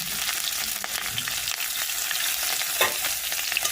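Chopped ginger and green chili fry in hot oil in a pan while making Maggi noodles. A close, continuous crackling sizzle is broken by light stirring scrapes, with no voices.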